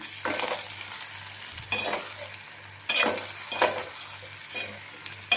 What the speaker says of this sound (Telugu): ఉప్పు కారం రెండు వేసుకొని కొంచెం కలుపుకొని